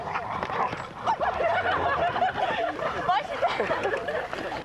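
A crowd of sled dogs in harness yelps and barks excitedly over one another outdoors in snow, a continuous overlapping chorus with a voice speaking underneath.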